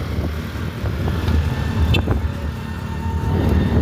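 A motorcycle cruising smoothly along a road, its engine a steady close drone mixed with wind and road rumble, holding an even level throughout with no one speaking.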